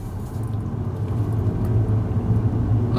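A car engine hums low and steady through a driving lesson, a continuous rumble holding near a constant pitch at moderate loudness with no voices over it.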